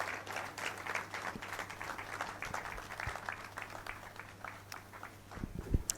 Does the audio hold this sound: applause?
yes